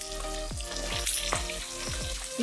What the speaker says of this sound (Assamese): প্ৰথমে মই অলপ মাছ ভাজি পেলাই আপোনালোকক তৰকাৰীখন বনাই দেখুৱাম।